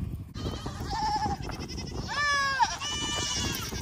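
A goat bleats in a barnyard, two drawn-out cries that rise and waver, close and fairly loud, the second longer, over background noise with no talk.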